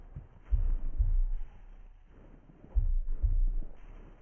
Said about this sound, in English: The fucking heartbeat.